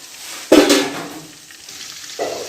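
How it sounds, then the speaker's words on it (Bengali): Dal with vegetables cooks in a pan, with a sudden loud burst of sizzling and stirring that fades to a low simmer, then a second softer sizzle near the end, without voices. "এখন কিছুক্ষণ আমি ডাল হতে দেব।"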